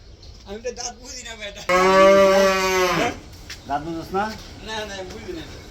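A large cow in a dark shed at a house in Dhaka gives one long, loud, close moo lasting over a second, with people talking before and after it.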